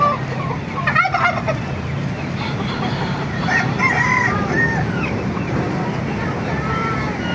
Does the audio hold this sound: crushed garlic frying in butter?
no